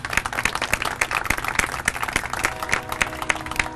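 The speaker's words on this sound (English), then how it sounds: "I think that deserves a big round of applause." Moderately loud audience applause at a City of Houston homeownership program event, with sharp individual claps standing out from a steady crowd clapping that continues throughout.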